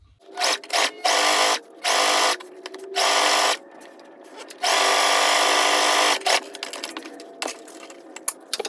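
A sewing machine stitches a fabric bow hair clip in several short, loud bursts of rapid whirring, separated by brief pauses, with one longer run and a few faint clicks near the end.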